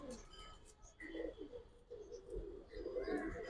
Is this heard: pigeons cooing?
yes